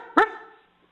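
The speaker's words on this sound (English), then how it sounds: "do you hear my dog? He yap yap." A single sharp yap from a small dog rings out close and loud, then fades quickly into quiet.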